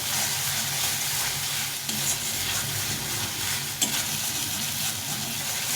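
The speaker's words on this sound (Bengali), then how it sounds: "ভাজতে ভাজতে তেলটা ছেড়ে দেবো একটু ভাজা হয়ে গেছে সুন্দরভাবে ভেজে নিয়েছি" Ginger, cumin, chilli and garlic frying in oil in a pan, a steady close sizzle running throughout with faint stirring clicks and no talk.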